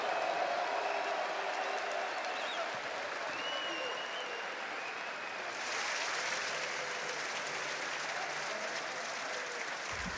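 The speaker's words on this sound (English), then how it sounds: "Un tonnerre d'applaudissements, s'il vous plaît" An arena crowd at the Call of Duty League Major 4 finals in Paris applauds champions OpTic Texas. The continuous clapping sounds faint and distant and holds steady for about ten seconds, with a faint voice in the mix.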